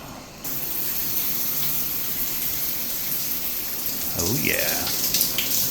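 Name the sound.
shower running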